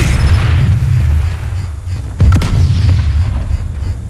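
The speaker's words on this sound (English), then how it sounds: "What are these explosions?" Explosions in a PlanetSide 2 battle: heavy low rumbling booms throughout, with a sharp, loud blast about halfway through, close and forceful, and no talk.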